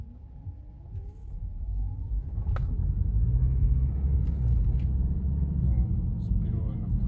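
A Honda Fit car drives along with a low, steady engine rumble and road noise that builds and holds, heard from inside the cabin as people talk.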